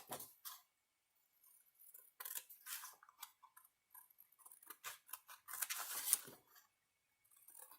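Scissors snip through paper to cut out a journal tag, producing a close, quiet series of irregular crisp cuts and rustles with short pauses between them.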